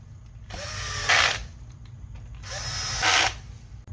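A power screwdriver drives T10 screws to secure the top cover of an Xbox Series S, with two close, loud whirring bursts of about a second each, separated by a short pause.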